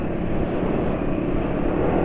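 Motorcycle engine running on MRC 10W40 oil, with revs falling away quickly under engine braking, a steady close broadband drone throughout.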